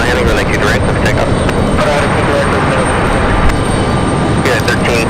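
An airplane taking off at Raleigh-Durham airport, with a loud, steady engine roar and rushing wind noise filling the whole clip and no voices.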